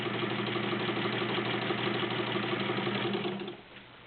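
A vintage heavy-duty Necchi BU sewing machine runs a zigzag stitch with a steady, fast mechanical whir and rhythmic chatter. It is close and continuous, then slows and fades near the end.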